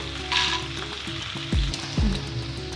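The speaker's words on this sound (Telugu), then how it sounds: "వీటిలో కొన్ని పల్లీలను వేస్తున్నాను" Peanuts frying in ghee in a pan for raw mango pulihora, a continuous close sizzle broken by a few low thumps and scrapes as they are stirred, with no voices.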